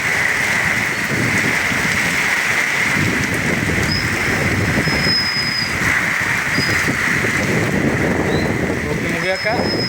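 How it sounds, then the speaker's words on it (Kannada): Steady rain hisses loudly and continuously, with a faint high tone now and then and muffled voices beneath. "ಮಳೆ ಬರಾಕ"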